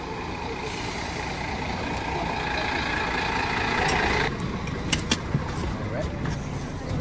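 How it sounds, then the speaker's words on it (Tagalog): A tour bus pulls up at a Swiss roadside stop, its engine droning loud and close, then sharp hissing bursts of air brakes as it halts, followed by a few short clanks while people talk nearby. "Dito na, isasakyan naming bus."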